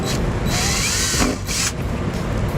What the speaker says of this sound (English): I'll go ahead and drill the 2 holes